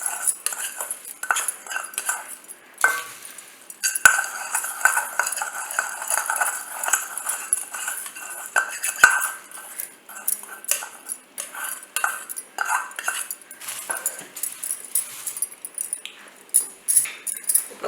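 Sabudana mixture being tossed and stirred in a metal pan, busy rattling and clinking of crisp pieces and utensil against the pan, close and continuous with brief pauses.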